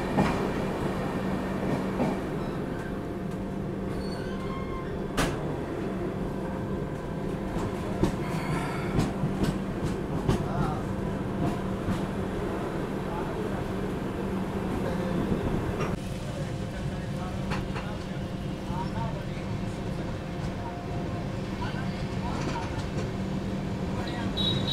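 An Indian passenger express train rolls slowly into a station platform, with a steady low rumble, wheel clatter and an occasional squeal at moderate distance, while people talk nearby.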